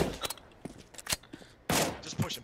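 Bursts of video game gunfire from a P250 and Glock-style pistols, sharp scattered shots and a rapid volley, with players' voices faint underneath.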